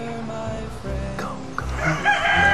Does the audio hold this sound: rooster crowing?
yes